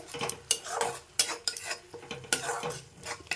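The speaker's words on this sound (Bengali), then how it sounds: "আর একবার আমি নাড়িয়ে দেব এইভাবে" Spice masala stirred in a pan over a low flame, with soft repeated scraping strokes and light utensil clinks over a faint background sizzle, close and quiet, with no voices.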